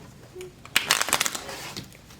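Tarot cards shuffled for a pick-a-card reading: a quick flurry of crisp, papery riffling bursts, close and fairly loud, settling into a softer rustle before fading to quiet.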